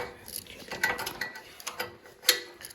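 Metal wrench clicking and ratcheting while loosening bolts on an old barn-find Ford tractor, a string of irregular close taps and clanks over a quiet workshop background.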